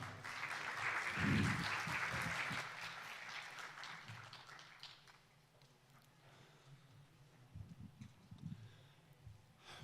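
Applause from a lecture audience swells loudly at first, then thins into scattered claps and fades into a quieter room with a few thumps and rustles.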